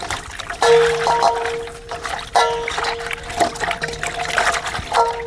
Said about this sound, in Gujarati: હવે સરસ પાણીથી આપણે ધોઈ નાખીએ